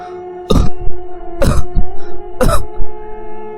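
Three harsh, forceful coughs come in quick succession about a second apart, loud and close, with spluttering breaths between them.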